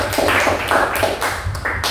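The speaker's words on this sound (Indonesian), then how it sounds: "kita berikan tepuk tangan buat Jennifer" A classroom of students applauds for a classmate, a short burst of fast, close clapping that fills the room for about two seconds.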